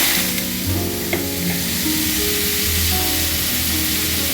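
Flat beans hit hot oil in a pan and fry with a loud, continuous hissing sizzle that stays steady throughout, with a faint low hum beneath.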